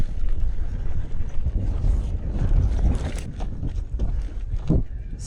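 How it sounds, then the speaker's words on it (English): Strong wind gusting among desert dunes, heavy buffeting rumble across the microphone with surging and fading blasts, close and loud throughout with no voices. "It's very windy here."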